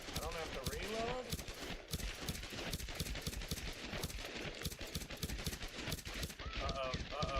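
Rapid automatic gunfire from the Tomb Raider Definitive Edition video game rattles on almost nonstop with dense, sharp repeated shots, while a voice talks over it.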